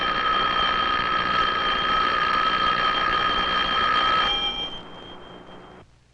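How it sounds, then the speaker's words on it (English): An electric bell rings continuously and loudly for about four seconds, its steady metallic clang cutting off abruptly and leaving a fading ring that dies away. "how does the sound of the electric bell travel to our ears?"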